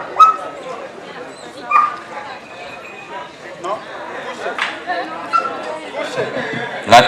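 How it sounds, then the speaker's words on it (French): A trained dog barks and whimpers during an obedience demonstration, short yips and whines scattered over a crowd's chatter and a handler's commands. "Le chien est un peu intimidé par l'autre chien, mais il se reprend rapidement."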